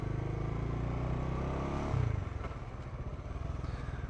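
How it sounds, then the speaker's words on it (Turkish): A faulty motorcycle engine runs steadily nearby, with a rough squeaking, rattling, clattering texture over its low drone and a brief surge partway through. "Bir gıcır gıcır ses var. Bir ani gaz verince stop etti falan. Çat çat ses yapıyor."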